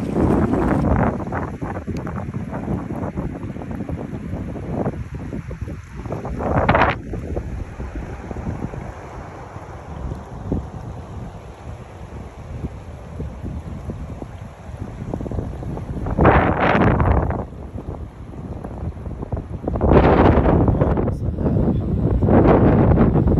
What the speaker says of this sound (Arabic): هذه السيول زي ما تشوفون قدامكم من أمطار أمس